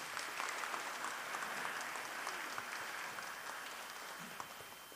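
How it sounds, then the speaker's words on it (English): Wedding reception guests applaud across a large room in a steady, moderately distant wash of clapping that holds evenly and fades slightly toward the end, with no speech over it. "Please round of applause for our OGs, please."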